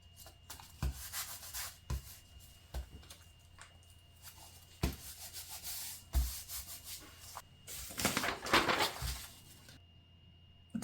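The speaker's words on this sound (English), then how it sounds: "Burnish with bone folder, pressing down tape onto the cardboard." A bone folder burnishes tape onto cardboard for a handmade junk journal spine, giving repeated rough rubbing strokes, close and fairly loud, in uneven bursts with brief pauses.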